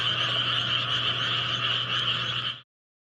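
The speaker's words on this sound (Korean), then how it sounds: "주변 개구리 소리에 묻힐 정도의 잔잔한 음악으로" Frogs in a rural border area croak in a dense, continuous chorus, loud and steady throughout before cutting off abruptly near the end.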